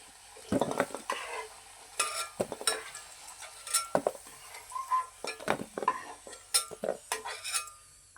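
Repeated scraping and stirring of potatoes in a pan with sizzling frying underneath, utensils clinking against metal in an irregular rhythm, close and fairly loud.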